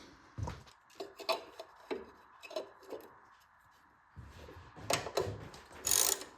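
Close, irregular clacks, scrapes and rattles of a metal valve cover being handled and fitted back onto a Lifan 7hp GX200-clone engine, with a brief louder clatter near the end.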